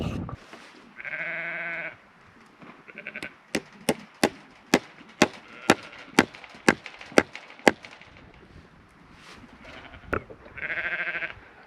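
Sheep bleat twice, at the start and end, between them a rapid series of about a dozen sharp wooden knocks or chops, fairly faint and outdoors.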